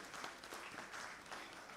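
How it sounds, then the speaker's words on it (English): Faint, distant applause from a conference audience honouring the organising committee at an international conference on Islam and education, with soft, even clapping that swells slightly and carries on without a break. "Applause for committee."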